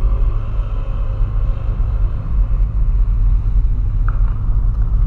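A Volkswagen Polo climbing a very steep hill, its engine a steady, loud low rumble with constant road noise throughout and no talking.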